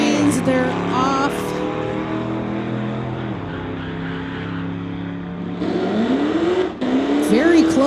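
A Corvette and a Pontiac launch in a drag race at Mission Raceway's Titanium Strip, engines revving hard and then roaring away, while a track announcer talks over the noise.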